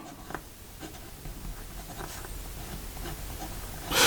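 Vinta Armada fountain pen with a medium nib writing on paper, a soft, close scratching of strokes and loops with a louder rustle at the end and no talk.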